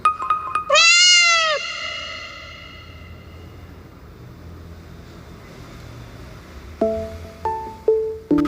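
A cat gives one loud, drawn-out meow close by near the start, then only faint background hiss follows until a few short electronic tones sound at the end.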